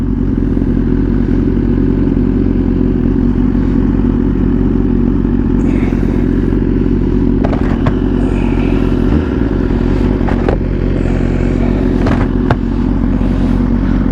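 Motorcycle being ridden, its engine droning loud and steady at close range throughout, with wind rush and occasional clatter and thumps from the road.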